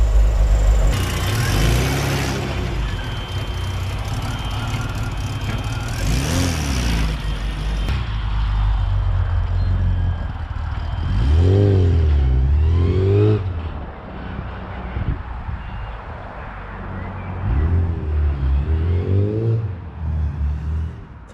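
A newly built supercharged car engine runs and revs hard, with repeated rising and falling throttle blips over a steady loud idle. No voices are heard.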